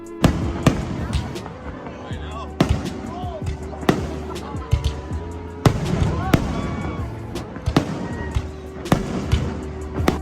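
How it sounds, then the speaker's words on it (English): Fireworks bursting at a show closing a trip in Hawaii, with repeated sharp bangs and crackles at irregular intervals over a busy crowd murmur and steady background hum, fairly loud and close. "So after a firework ending"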